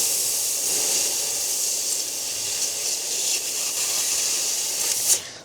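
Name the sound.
xTool laser welder cutting carbon steel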